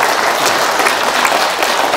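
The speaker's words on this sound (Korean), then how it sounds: "박수 한번 부탁드리겠습니다" Loud, dense applause from a crowd at an outdoor rally in Daejeon, continuous clapping with no pause over two seconds.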